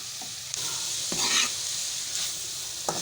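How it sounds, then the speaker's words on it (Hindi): Fried chicken pieces stirred into a vegetable filling in a hot pan for chicken veggie rolls, with a steady close sizzle broken by a few scraping spatula strokes and light clatters, no talking. "अब हमने जो चिकन फ्राई करके रखी थी वो भी इसमें ऐड कर देंगे और उसको अच्छी तरह मिक्स कर देंगे।"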